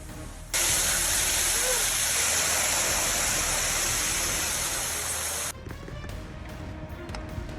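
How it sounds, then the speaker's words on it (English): A sudden flash flood at the Grand Canyon: a loud, steady broadband roar of rushing water that cuts off abruptly, leaving fainter wind and rumble behind. "it's flooding everywhere"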